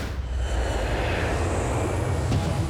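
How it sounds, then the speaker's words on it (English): A large airplane at a working airport produces a broad, continuous engine roar that stays loud and even throughout, with no voices. "To see a plane like this actually kind of makes you realize what we're all flying in when we're flying."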